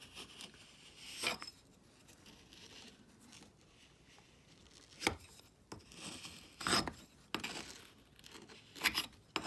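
Excess casting sand is scraped off a pattern for sand casting, giving intermittent gritty rasps and brushing scrapes with short bursts and pauses, close and moderately quiet, with no voices.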